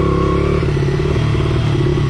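Motorcycle engine revving close by, a loud, continuous rough clattering rumble with pulsing throttle and no talk.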